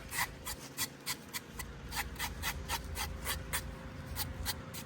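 Hand sanding of a small wooden piece, a quiet run of rhythmic scratchy rubbing strokes, about a dozen back-and-forth passes at an even pace, close and soft with no voices.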